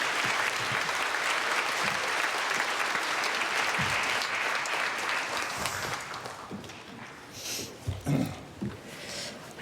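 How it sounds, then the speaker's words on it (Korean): A congregation at a special early-morning revival service applauds to welcome a speaker. The clapping starts dense and steady, then thins into scattered claps and rustling as it dies down toward the end. "나올 때 박수로 환영하겠습니다."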